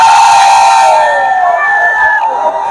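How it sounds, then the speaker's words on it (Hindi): A huge crowd cheering at a first-day showing of Gadar 2 in Bhagalpur, loud sustained shouting and whooping from many voices close by, tapering slightly toward the end. "ये ह्यूज भीड़ आपको बतला रहा है"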